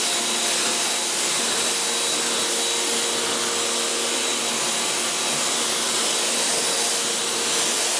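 Steady, loud hiss of a water rinse spraying ceramic soap off a 2006 BMW Z4 Coupe, continuous and even for the whole stretch with no talk.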